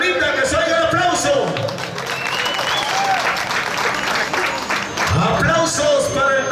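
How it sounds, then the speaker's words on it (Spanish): Crowd applauding at a bull riding tournament on a ranch, sustained clapping and cheering under an announcer's amplified voice. "Aplausos para el toro turista de la ramita"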